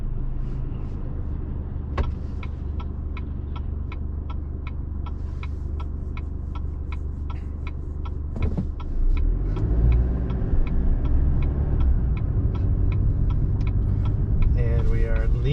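A diesel car driving on a road out of Montesano toward Wynoochee Lake in Olympic National Forest, with a steady engine and road rumble throughout. Regular ticking clicks run over the drone, and the rumble grows louder past the midpoint.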